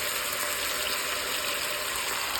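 Half a cup of water pours steadily into a pan of drained sausage, a continuous bright splashing hiss with no talk, holding even for a couple of seconds.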